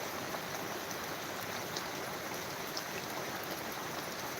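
Heavy rain pouring steadily in a village in Pardi taluka during an unseasonal downpour, a constant loud wash of noise with faint scattered drops and no talk.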